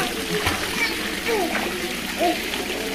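A young boy kicks and splashes in a swimming pool during a lesson, with intermittent splashes and sloshing water under a child's and adult's voices.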